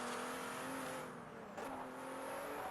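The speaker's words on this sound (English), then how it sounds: "I've turned it off in favour of hearing the delicious noise of the cars" Pagani Huayra supercar engine in Forza Horizon, a steady droning hum with a faint rise and dip, continuous and fairly quiet throughout.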